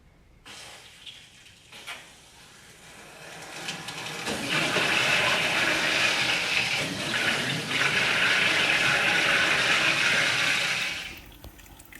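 Water rushing through an open valve in a house plumbing supply line, starting with faint knocks and clicks, then swelling into a loud, steady hissing gush for several seconds before cutting off abruptly.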